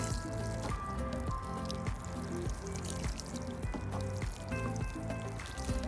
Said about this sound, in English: Just before I plant the green onions, I'm just gonna water the soil.